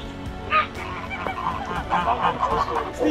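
Several geese honk loudly and close by in overlapping calls on a commercial film set, with a few sharp squawks rising above the flock.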